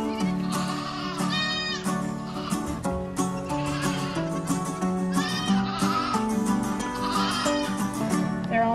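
Several farm goats bleat repeatedly in a pen, overlapping wavering cries near and loud, with other animal noises in the background and no clear talk.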